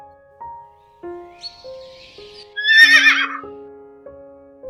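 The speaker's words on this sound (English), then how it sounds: "Horse." A horse gives one loud, close whinny midway through, set among soft, simple musical notes playing in the background.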